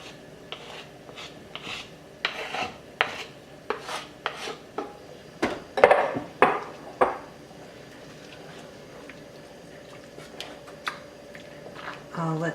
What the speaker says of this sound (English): Now I'll add this bacon into my soup.